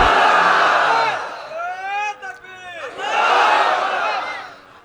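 A crowd at an Islamic sermon shouts a takbir chant in unison, a loud swelling roar of many voices that fades, then rises again in a second strong collective shout.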